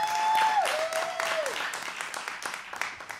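An audience at a church service claps hands, scattered applause rising and fading over a few seconds while a sustained tone rings out in the hall.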